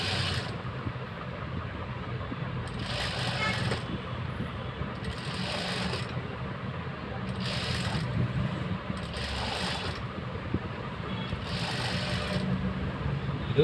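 Sewing machine stitching a blouse with piping, a steady mechanical whir broken by five short bursts of rapid stitching, close and moderately loud, with no talk.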